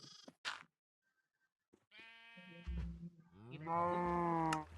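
Cows in the Minecraft video game give a few short, clean moos and low calls with quiet gaps between them. The later calls are longer and louder, and the sound is close and isolated.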